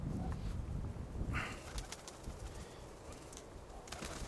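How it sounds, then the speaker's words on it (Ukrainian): Two pigeons coo softly at close range with a low rolling rhythm, mixed with faint wing flutters and light rustling, fairly quiet and with no voices. "Це в мене два голуба."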